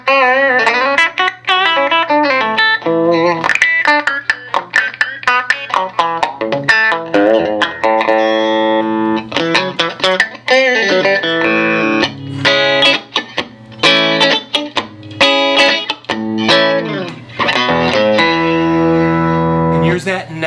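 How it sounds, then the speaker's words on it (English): Fender Telecaster electric guitar with a rosewood fretboard played through an amp with effects, a steady run of plucked notes and chords, loud and close, ringing with reverb and no talking. "then the rosewood board, which has got a little softer ring"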